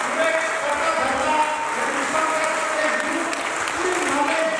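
Steady, sustained applause from an audience at a community leadership program event in Raipur, Chhattisgarh, many hands clapping evenly at even loudness throughout.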